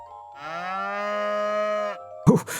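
A cow moos once, long and drawn out, in the farming video game Harvest Moon One World, loud and clear with nothing else beneath it, followed by a brief rustling game sound.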